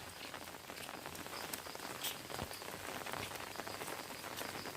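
Heavy rain pours down steadily during flooding, a dense, even patter of drops striking surfaces nearby with no let-up and no talking.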